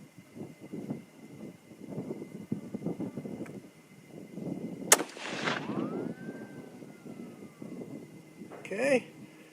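A single sharp, loud rifle shot from a 130 or 140 grain load cracks at close range in windy outdoor conditions. Someone talks quietly before it, and a short whistling tone trails off after the report.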